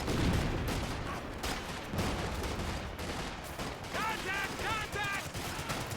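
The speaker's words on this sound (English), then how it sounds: "That's a lot of fire coming out on them." Bursts of gunfire and machine-gun fire crackle through a Company of Heroes 2 battle, repeated rapid volleys layered with game effects and some whistling tones, at moderate level with a commentator's voice talking over it.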